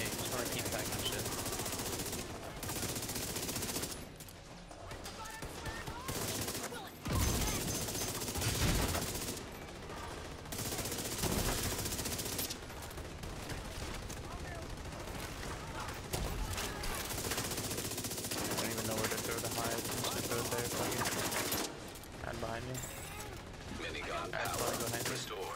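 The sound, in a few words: gunfire from the video game The Division 2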